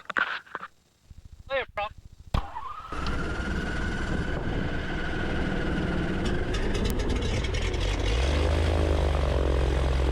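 A light propeller aircraft taxiing to the runway, its engine starting with a few coughs and a sharp bang before settling into a steady, close droning idle that gradually builds, with a voice talking briefly early on.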